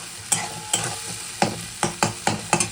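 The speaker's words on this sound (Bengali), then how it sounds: "প্রথমে সরষের তেলের মধ্যে পেঁয়াজ কুচি দিয়ে দিয়েছি এগুলো ভাজা হোক" Chopped onions hiss in hot mustard oil in a close pan, and about eight sharp spatula scrapes and knocks land at uneven intervals over the steady sizzle.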